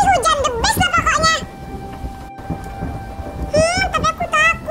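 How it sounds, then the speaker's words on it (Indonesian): Rain and thunder in the Sakura School Simulator video game, a steady rainfall with low rumbles heard under children's voices talking in the foreground for most of the time. "Apalagi ini lagi hujan."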